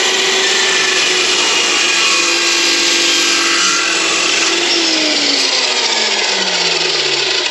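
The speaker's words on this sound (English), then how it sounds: "I just need to cut a little piece of this tube off at 3/4 of an inch" A power tool cuts a short piece off a metal tube with a loud, continuous grinding whine. Its pitch slides downward as the blade bites into the tube. It is close and alone, with no voices.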